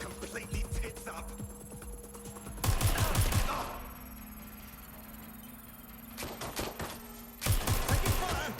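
Bursts of video game gunfire erupt in two loud volleys separated by a stretch of low hum and ticking, with tense voices shouting over the shooting.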